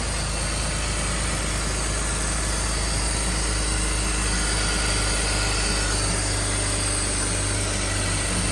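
Car engine idling just after an oil change, a steady low hum with a constant even drone and no revving, heard alone throughout.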